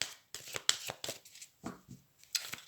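Tarot cards being shuffled and drawn, crisp riffling and snapping bursts close to the microphone, coming in quick irregular clusters with short pauses between them.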